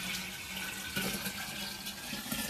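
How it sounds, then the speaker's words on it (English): Cooled tea is poured from above onto sugar for kombucha, a steady trickling splash of liquid with faint gurgles, close and continuous for a couple of seconds. "I'm just going to pour the cooled tea in with the sugar"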